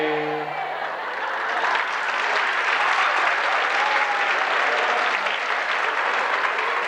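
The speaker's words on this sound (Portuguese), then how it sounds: "A minha esposa vem e torce um pano, vocês aplaudem" A church congregation breaks into applause during a sermon, a dense, steady wash of many hands clapping that sounds close and full, holding for several seconds.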